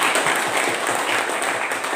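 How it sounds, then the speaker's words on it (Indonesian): A classroom of students applauds a classmate's answer, with dense, steady clapping filling the room for the whole stretch and no talking over it. "kita kasih tepuk tangan buat Ali"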